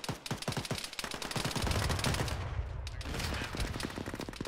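Gunfire rings out near a barn in the ArmA military video game: a quick run of sharp individual shots, then a dense rattle of overlapping rounds that continues in bursts, heard at a moderate distance without speech.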